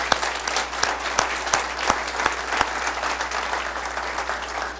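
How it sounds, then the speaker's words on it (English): At a State of the Township presentation, a moderate crowd claps steadily, with a few sharp individual hand claps standing out from the continuous applause. "Let's give Xander a round of applause."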